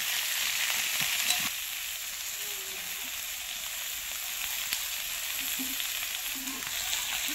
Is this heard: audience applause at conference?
no